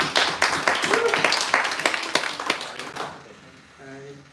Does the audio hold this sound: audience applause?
yes